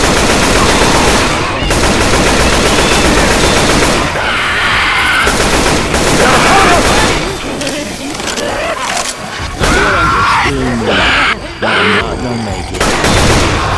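Dense, loud automatic gunfire and rapid shots from Left 4 Dead 2 versus mode on the Swamp Fever campaign run almost continuously, with brief pauses and voices calling out between bursts.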